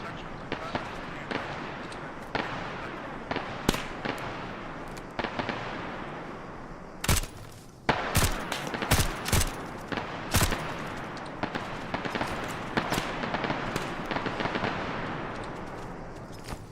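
Gunfire in the military shooter Arma 3 during a squad training session, with sustained suppressing shots and bursts popping throughout and a dense cluster of loud cracks in the middle, heard under voice chat.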